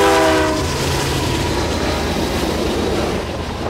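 Freight train locomotives, including Norfolk Southern units, pass close by and sound a loud horn at the start, followed by a heavy rumbling roar and rolling rail clatter that fades slightly toward the end.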